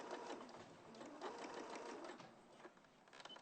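A sewing machine stitches fabric curves into position, its motor whirring steadily and close up, with the needle running continuously and only brief changes in pace.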